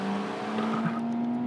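A car drifts continuously to the left in a winter racing game, its steady engine tone running loud and close with a sustained tire squeal layered over it.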